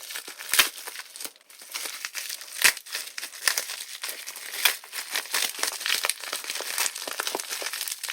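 A heavily wrapped package of trading cards being torn open, with close, continuous plastic crinkling and tearing in uneven bursts and no voices.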